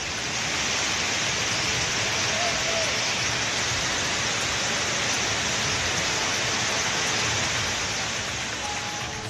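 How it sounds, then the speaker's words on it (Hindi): Heavy monsoon rain and flood water in Chhatarpur district, Madhya Pradesh, India, roar as a dense, steady broadband wash at constant loudness for the whole stretch, with no voices over it. "टीवी स्क्रीन पर दिख रहा बारिश का ये डराने वाला वीडियो मध्य प्रदेश के"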